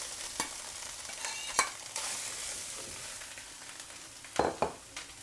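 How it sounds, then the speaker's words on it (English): Rice stir-fried in a hot wok for Chinese special fried rice, with a steady sizzle and a few sharp scraping clatters of the spatula against the metal, fairly close, no talking. "Right, back in goes the rice."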